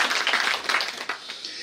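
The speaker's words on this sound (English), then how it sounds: "So all the teachers in the house, clap for yourself." Crowd clapping and applause at a women's economic empowerment conference, a steady wash of hand claps filling the room, fairly close and even in volume throughout.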